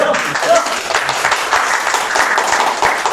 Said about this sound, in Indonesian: Gak usah tepuk tangan dong.